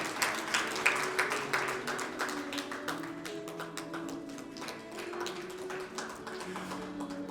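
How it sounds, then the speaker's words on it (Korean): An audience at a Korean commemoration ceremony for the 105th anniversary of the Cheongsanri battle claps in a faint, scattered patter that thins out as soft tonal music continues underneath. "축하와 격려의 박수 부탁드리겠습니다."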